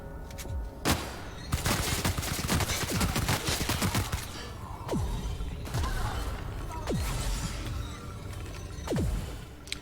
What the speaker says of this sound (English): Damn, somebody's shooting me.